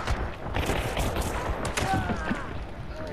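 Suppressed guns fire in a video game gunfight, with rapid overlapping muffled shots and thumps under constant talk.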